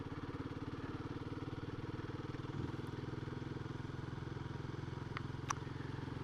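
A Royal Enfield Guerrilla 450 motorcycle engine runs steadily on a gravelly country road, a continuous close, even thrum with a brief tick or two near the end and no talking.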